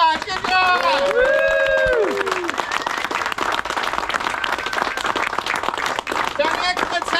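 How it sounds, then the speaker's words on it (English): Participants at a classic car Lemons Rally gathering give themselves a lively round of applause, steady close clapping mixed with cheering voices and whoops, lasting several seconds. "give yourselves a round of applause"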